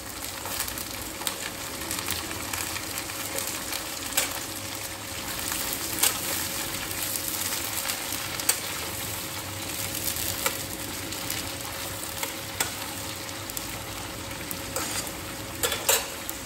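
Potatoes and bitter gourd fry in oil in a pan for a chorchori, giving a steady, close sizzle with occasional stirring scrapes and no talk.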